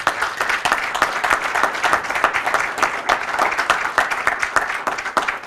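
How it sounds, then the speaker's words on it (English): An audience at an outdoor press conference in Dunkirk, New York, applauds, with brisk continuous clapping held at an even level throughout. "How about a round of applause for APG, please?"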